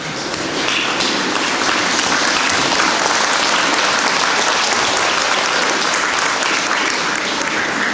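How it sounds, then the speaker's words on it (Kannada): A school function audience rises for a loud, sustained standing ovation, thick continuous clapping filling the hall at an even level from start to finish. "ನಾವೆಲ್ಲರೂ ಎದ್ದು ನಿಂತು ಒಂದು ದೊಡ್ಡ ಚಪ್ಪಾಳೆಯನ್ನು ಕೊಡಬೇಕು"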